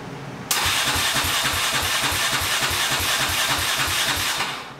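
A turbocharged EFI 660 lawnmower engine cranks and fires abruptly, then runs at a steady, loud, rumbling idle with a fast regular pulse, close by and with no talking.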